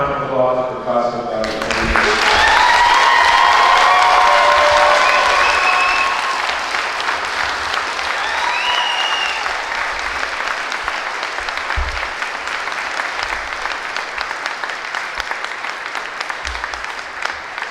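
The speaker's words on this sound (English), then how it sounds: "One final round of applause for Costa" Graduation ceremony audience applause: a large crowd claps loudly and steadily, with cheers and whistles rising near the start, then tapering into a long, even ovation with scattered voices.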